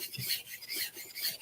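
An oil stone is rubbed flat on an abrasive plate with a rasping scrape that comes in quick back-and-forth strokes, close up and without speech.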